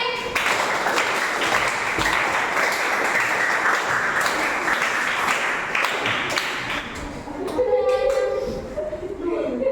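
A group of children or participants clap together in a called pattern of four claps repeated three times, a dense run of sharp claps filling the room, with a voice and some tonal ringing near the end.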